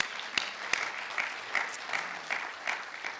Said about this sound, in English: Let's give Meharry a round of applause.